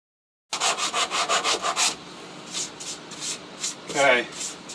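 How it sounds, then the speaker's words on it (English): Rhythmic back-and-forth sandpaper strokes on a wooden clock piece, about eight quick rasping passes up close, then slower scattered rubs, with a brief voice near the end. "I'm going to sand this a little bit"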